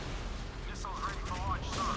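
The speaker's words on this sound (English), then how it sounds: "The missile is away." A missile launches in the naval combat game Modern Warships, a steady broadband roaring rush lasting throughout, with faint voice-like tones woven through the noise.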